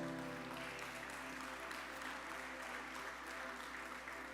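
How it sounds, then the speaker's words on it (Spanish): Church congregation applauding during a Spanish-language worship service, a dense, steady wash of clapping lasting the full stretch over a low sustained hum, with no clear voices on top. "¿Le pueden dar un aplauso a Jesús?"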